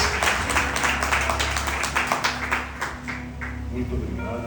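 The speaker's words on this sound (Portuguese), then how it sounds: "aproveita que você sentou, aplauda ao Senhor mais uma vez" A church congregation claps together in a loud, dense burst that slowly thins out over a few seconds, with voices murmuring underneath.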